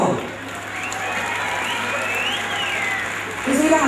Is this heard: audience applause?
yes